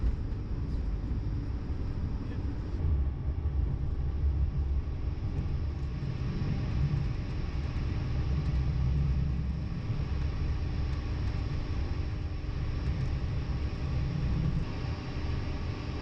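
Comboios de Portugal Intercidades train between Lisbon and Faro ambling along a winding countryside line, a steady low rumble and rolling drone heard from on board, continuous and even throughout with no voices.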